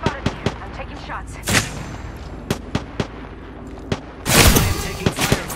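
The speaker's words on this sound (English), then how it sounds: "I am taking fire, friends." Gunfire in Apex Legends cracks out as a string of sharp, separate shots at irregular intervals, ending in a heavier, longer burst, loud and close, with no talking.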